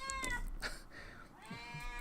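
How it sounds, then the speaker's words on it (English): A cat meows indoors, a few short, faint, drawn-out calls over quiet room background. "there is my cat Cleo making her first appearance on the show"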